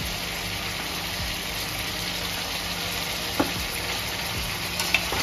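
Mutton marinated with saffron being stirred and fried in a pan, with a steady low sizzle and occasional faint scrapes of a spoon against the pan.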